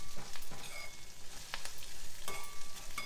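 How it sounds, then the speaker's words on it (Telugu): Eggplant pieces fry in a pan for a sesame curry, giving a continuous sizzle with occasional clinks and scrapes of a stirring utensil, close and clear, with no talk. "ఇలా కొంచెం వేయించుకోవాలి."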